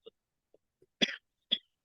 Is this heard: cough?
yes